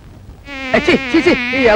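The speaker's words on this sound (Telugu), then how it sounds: "ఈగలు" Insistent buzzing of flies in a Telugu comedy film scene, a loud close drone that swells and dips in pitch as if circling near, with no talking over it.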